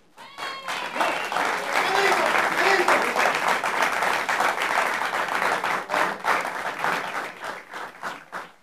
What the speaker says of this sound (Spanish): pido un aplauso para ustedes mismos